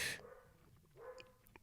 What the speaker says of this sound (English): if you can hear, I got doggies in the background. I don't know whether they're barking at something.